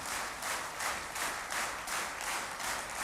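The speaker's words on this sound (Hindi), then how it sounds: "कौन बजा सकता है ताली?" Steady rhythmic clapping from many hands at a spiritual gathering, evenly pulsing claps in unison, moderately loud and uninterrupted by voices.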